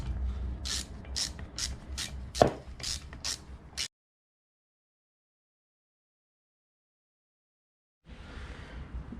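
Choke and carb cleaner is sprayed into a dirty carburettor on a Yamaha QT50 moped build in a series of about eight short, close hissing bursts, followed by silence and then a fainter hiss.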